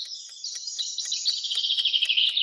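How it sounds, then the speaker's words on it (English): A songbird sings a fast series of high, bright chirps in an even rhythm, clear and close with nothing else behind it, heard as one of several farm animals. "Bird, soft and fluffy."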